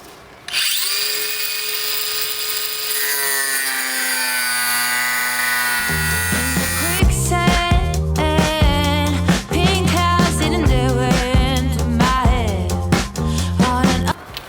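A cordless Bosch angle grinder cuts with a 1 mm Bosch cutting disc, giving a loud, continuous high whine that shifts pitch and turns rougher and more ragged midway as the disc bites into the material.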